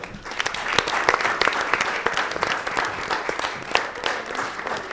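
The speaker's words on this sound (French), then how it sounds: "Je vous demande de faire un tonnerre d'applaudissements pour ce créateur d'aventure" A large audience breaks into sustained applause for Willy Yav at the Miss RDCongo pageant, dense steady clapping with no speech over it.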